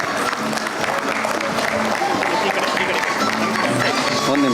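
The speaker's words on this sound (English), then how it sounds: "Round of applause, ladies and gentlemen." Audience applause at the inaugural session of a Karnataka state-level conference as a guest is welcomed with a bouquet. It is a dense, steady wash of clapping throughout, with voices and faint tones mixed in.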